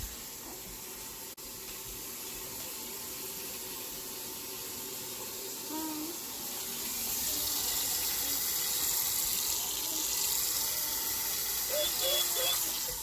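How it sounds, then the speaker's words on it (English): Tap water runs steadily into a pot in a home kitchen, a soft continuous splashing that grows slightly louder and fuller partway through as the pot fills. "So afterwards, I like to fill up with water."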